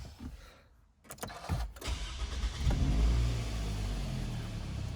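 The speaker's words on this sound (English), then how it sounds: "Let's start the car." A 2008 Toyota Rav4 2.4G 4WD with push-button start cranks briefly with a few clicks and whirs, then catches and settles into a steady, close, low idle.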